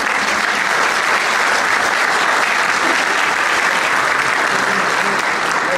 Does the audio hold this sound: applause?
yes